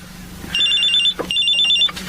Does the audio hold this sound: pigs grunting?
no